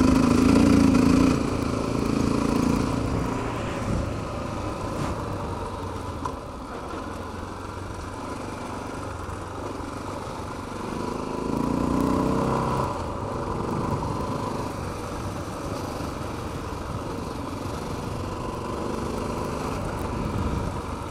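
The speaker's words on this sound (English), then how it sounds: "just the engine braking alone can get this thing sliding out on me." Honda XR650L four-stroke dirt bike engine running while riding off-road, a steady mid-pitched drone that swells briefly near the start and again around the middle, with no voices.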